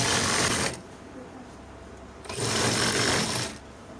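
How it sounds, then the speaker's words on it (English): A sewing machine stitching a bomber jacket runs in two short close bursts, a rapid mechanical whirr separated by a quiet pause. "so now start sewing"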